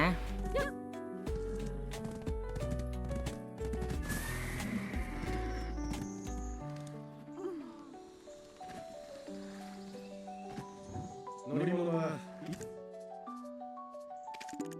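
A horse in an online video game neighs and clops its hooves over upbeat game music and interface chimes, with a person talking at times and a sharp whinny near the end.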